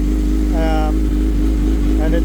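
A 2005 Suzuki GSXR 1000 K5 sport motorcycle fitted with a race exhaust, its engine running with a steady deep drone and a couple of short rising revs on top.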